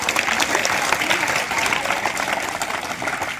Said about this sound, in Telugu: క్లాప్ చెప్పండి